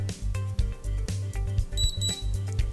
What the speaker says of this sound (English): until the unit beeps twice.